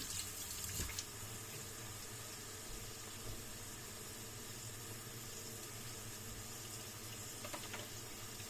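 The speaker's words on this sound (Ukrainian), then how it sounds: "Так, зараз полосну руки." Hands are rinsed under a running kitchen tap while cooking a vegetable and meat stew, a steady close splash of water that runs without a break and with no talk.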